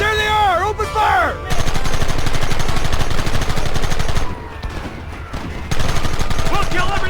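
A shootout in the Western video game Red Dead Redemption brings loud, dense gunfire with rapid overlapping shots and volleys that run almost without a break. Shouted voices come in near the start and again later.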